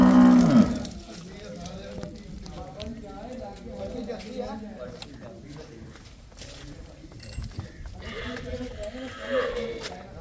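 Cows moo repeatedly, loud and fairly close, over a busy farmyard background with people talking nearby, at a dairy farm selling cows.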